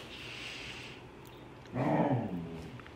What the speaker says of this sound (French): excusez mon chien, là, son jouet est perdu